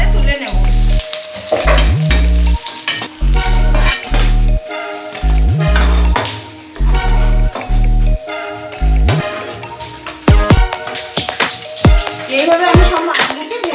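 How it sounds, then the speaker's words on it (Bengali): Datne river fish fry in white oil in a wok, a loud, busy sizzle and spatter running throughout while a person speaks over it in bursts. "মাছগুলি আমি অল্প অল্প করে দিয়ে ভেজে নেব।"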